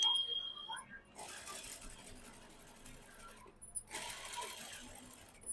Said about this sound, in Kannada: ಟಾಪ್ ಇಂದ ಶುರು ಮಾಡಿ ಸೆರಗಕ್ಕೆ ಬಂದು ಸೆರಗಲ್ಲಿ ನಾವು ಸ್ಟಿಚ್ ಮಾಡ್ತಾ ಇದೀವಿ